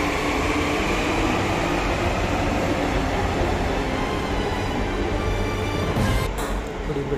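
A metro train runs at Noida metro station in the early morning, a steady, loud, unbroken roar with a brief clatter near the end.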